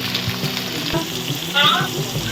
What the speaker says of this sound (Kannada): ಟೊಮೊಟೊ ಚೆನ್ನಾಗಿ ಒಂದು ಸ್ವಲ್ಪ ಫ್ರೈ ಆಗಬೇಕು ಗೊಜ್ಜು ಗೊಜ್ಜಾಗೋ ಥರ